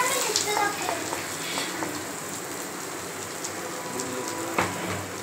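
Ground paste for chicken kurma fries in a pan after ginger and garlic, giving a steady crackling sizzle like rain with a few sharper pops, heard alone at moderate loudness.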